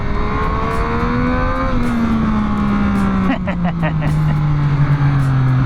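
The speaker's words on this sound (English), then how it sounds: "I hope you can hear how good this engine sounds." Engine of a 2024 Yamaha MT-09 motorcycle under way, a loud sustained drone with pitch slowly easing downward, a brief burst of clatter mid-run, heard while riding with wind noise.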